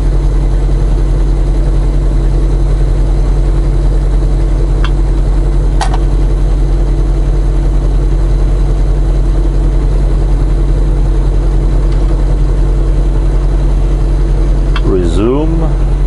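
Steady low car engine hum with road drone, heard from inside a vehicle cruising west on Interstate 80 in Iowa, continuous and fairly loud with no talk.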